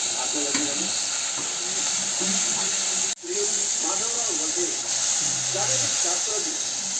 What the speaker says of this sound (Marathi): आता कांद्याची फोडणी देते आणि कांदा मस्त परतून घ्यायचा लाल होऊन द्यायचा आहे